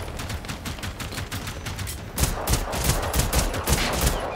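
Rapid bursts of automatic gunfire crackle in the video game Generation Zero, a dense, loud volley of repeated shots that grows heavier partway through, with no talking over it.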